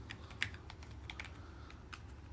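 Typing on a computer keyboard: a short run of soft, quick keystrokes, close and fairly quiet, with no voices.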